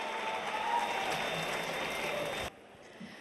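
An audience at a book discussion applauds filmmaker Rakeysh Omprakash Mehra, a dense wash of clapping that holds steady and then cuts off abruptly, leaving a quiet room.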